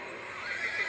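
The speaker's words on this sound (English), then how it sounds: "A horse. That would be a horse." A cartoon horse in an animated fantasy show gives a bright, rising whinny that fills a short moment, loud and close with no talk over it.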